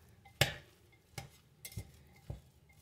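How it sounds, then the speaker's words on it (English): A spoon scrapes and knocks through sloppy joe mixture in a crock pot's ceramic insert, giving four separated clinks and scrapes at an uneven pace, close and fairly quiet with no talking. "So I'm just kind of stirring this around a little bit."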